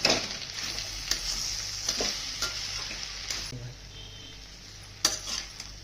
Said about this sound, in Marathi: याला परत एकदा मिक्स करून घ्यायचा